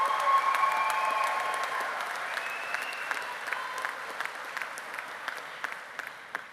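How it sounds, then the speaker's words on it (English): An undergraduate commencement crowd applauds graduates, a broad, sustained clapping that starts full and slowly thins and fades, with a few whoops early and scattered sharper claps standing out toward the end. "Let's give them a special round of applause."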